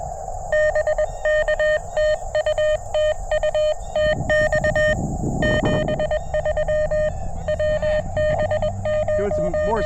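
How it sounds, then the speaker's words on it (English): Morse code CW tones from an amateur radio at a park, a steady beeping pitch keyed in rapid dots and dashes, with a burst of static partway through. "Doing some Morse code."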